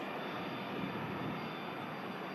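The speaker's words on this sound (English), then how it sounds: "The Cessna CJ3 in from Munich." A Cessna CJ3 business jet arriving at Manchester Airport gives a steady, even roar of engine noise, distant and unchanging throughout.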